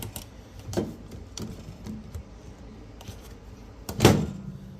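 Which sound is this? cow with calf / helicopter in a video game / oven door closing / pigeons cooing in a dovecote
oven door closing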